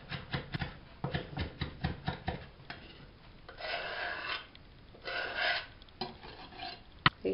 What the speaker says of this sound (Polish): Jeszcze raz wszystko przemieszam.